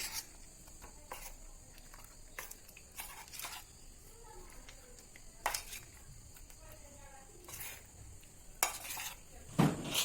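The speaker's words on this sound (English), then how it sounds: "So now we are adding the cauliflower pieces to the batter and we need to mix it up." Cauliflower pieces are stirred into batter in a bowl for gobi Manchurian, giving soft, wet squelching broken by scattered sharp clinks of a utensil against the dish, fairly quiet throughout.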